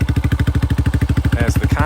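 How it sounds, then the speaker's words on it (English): A warm Yamaha YS125 motorcycle idles close by with a quick, even, thumping pulse, a small 125 cc single chugging steadily. "let's fire her up"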